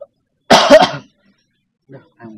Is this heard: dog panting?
no